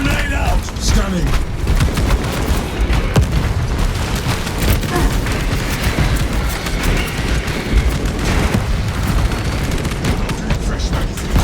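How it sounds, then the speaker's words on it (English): Dense rapid gunfire and booming blasts with a frag grenade in the Warhammer video game Space Marine 2, a constant loud barrage of shots and explosions with battle clamor throughout. "Frag grenade out!"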